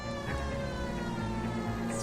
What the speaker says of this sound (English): My siren is on.